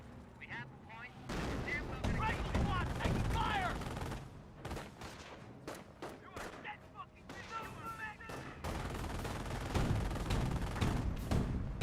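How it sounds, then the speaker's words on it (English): Artillery barrages and gunfire in the World War II strategy game Company of Heroes, with dense overlapping shots and heavy blasts in rapid bursts, plus brief game voice lines. "I'm not sure exactly where the barrage is going."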